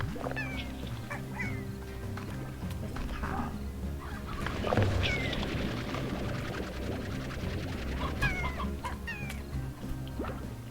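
Chickens cluck and squawk in short bursts over a steady low background hum, several calls scattered throughout, from the video game Slime Rancher.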